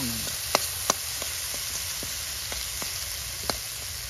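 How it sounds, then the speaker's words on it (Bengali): Lentils (dal) fry in a pan in a village kitchen with a low steady sizzle, broken by a few light spoon taps and scrapes, close and fairly quiet. "হ্যাঁ ডালটা একটু কোনো ভেজে নেই।"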